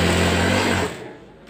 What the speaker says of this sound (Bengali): এ দেখেন আমি এখানে সেলাই করে নিচ্ছি।